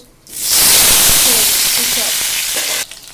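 Greens such as Malabar spinach hit hot oil with a dried chili and panch phoron and fry in a loud, close sizzle. The hiss swells quickly, holds for a couple of seconds, then drops away abruptly.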